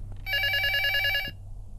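An electronic telephone bell in a haunted house video game rings once with a bright, steady trill for about a second before cutting off, over a low background hum.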